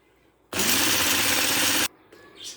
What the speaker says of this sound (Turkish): İki tane yumurtamı karışımın içine bıraktım. Güzelce rengi açılana kadar çırpacağım